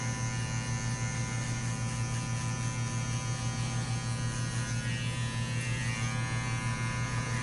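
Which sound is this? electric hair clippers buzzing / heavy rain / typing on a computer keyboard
electric hair clippers buzzing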